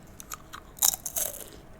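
Crisp, close-up crunching as someone bites into brittle homemade cheddar cheese crisps, microwaved on a plate until they crisp up. A few quick bites break into louder crackly bursts, with no voice.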